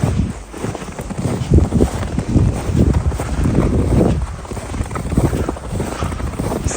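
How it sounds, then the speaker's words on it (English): Footsteps crunching through snow in Russian cold of about -20°C, a steady walking rhythm of close, gritty crunches over a windy, rumbling background, without talk. "I really don't think I'm the only one that enjoys this sound when you're walking on snow."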